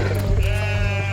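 A sheep bleats loudly and close by, one drawn-out wavering call filling the whole moment.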